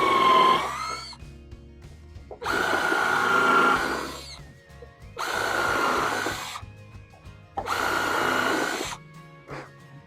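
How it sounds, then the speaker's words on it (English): A power drill bores pilot holes into sawhorse lumber in three sustained bursts of a few seconds each, separated by short pauses, following a brief opening whir. "And you're going to want to pre-drill these also."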